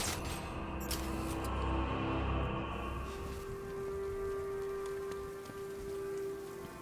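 Steady rainfall in the video game Batman: Arkham Knight, a constant hiss of drops on hard surfaces with a low tonal hum underneath and no voices.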